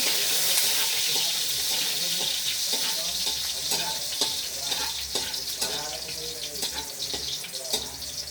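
Garlic hits a hot pan over a strong flame and sizzles loudly and continuously, with scraping stir strokes and faint clinks of a utensil throughout.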